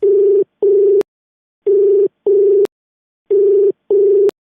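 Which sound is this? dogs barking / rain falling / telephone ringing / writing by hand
telephone ringing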